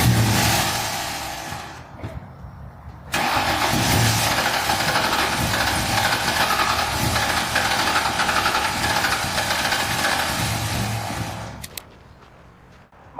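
A Ford Mustang GT undergoing restoration cranks briefly, then its engine catches and runs at a steady, rough, loud idle with a knocking edge before it cuts off abruptly.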